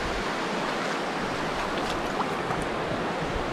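River water rushes around someone wading across to reach an Idaho hot spring. A steady, close, fairly loud wash of flowing water fills the whole moment, with no voices.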